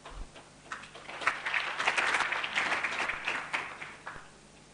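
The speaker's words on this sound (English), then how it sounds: "So Emmanuel, please let's welcome him with a round of applause." A round of applause at a teacher awards event welcoming a speaker to present; fairly faint, distant clapping swells up and fades away again over a few seconds, heard from across the room.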